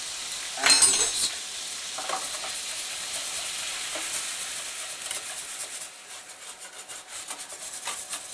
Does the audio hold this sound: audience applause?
no